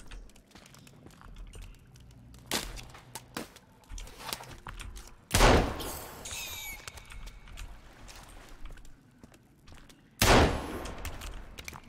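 Gunfire in the survival video game Sons Of The Forest: two loud, sharp shots roughly five seconds apart stand out over a busy bed of game noise, with smaller clicks and thumps scattered between them.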